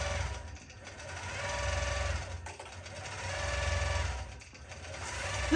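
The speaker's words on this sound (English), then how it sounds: "It stitches this whole thing out in sections." An embroidery sewing machine stitches out a mermaid tail scale pattern, a close steady mechanical whir and rapid needle clatter rising and falling in long cycles, no voices.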